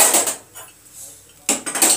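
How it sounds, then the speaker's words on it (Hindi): A metal tadka pan clatters down onto a stove with a brief clank, then a second scraping knock follows after a short quiet pause. "तड़का पैन रख दी"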